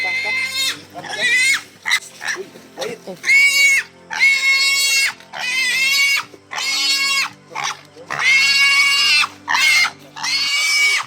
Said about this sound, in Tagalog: Sigaw yung baboy.